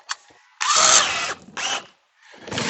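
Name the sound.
drill with paddle mixing concrete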